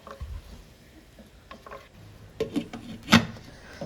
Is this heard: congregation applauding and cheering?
no